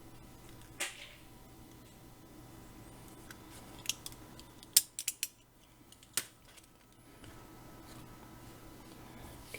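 Scissors trim a part during a ZX Spectrum composite video mod, giving several small, close snips and clicks against a quiet room hiss.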